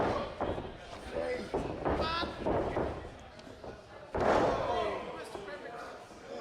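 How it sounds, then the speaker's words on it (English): Heavy thuds as a wrestler is slammed onto the ring mat with a neck breaker during a Beyond Wrestling match, with two sharp impacts under an announcer's commentary and crowd noise. "Center of the ring with that neck breaker"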